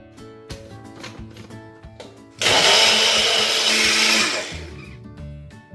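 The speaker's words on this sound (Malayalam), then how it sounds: "ഇതെല്ലാം കൂട്ടിയിട്ട് നന്നായിട്ട് അടിച്ചെടുക്കും" Kiwi, lemon, sugar and ice water whirring in a blender: a loud, steady grinding roar lasting about two seconds, set between stretches of background music.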